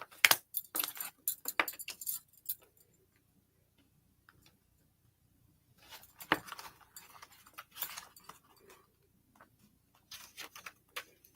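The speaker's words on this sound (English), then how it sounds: "I'm going to pick all these cards up" Playing cards being gathered up by hand, giving bursts of crisp ticking, flicking card sounds in two clusters with quiet pauses between, close and fairly soft, with no talking.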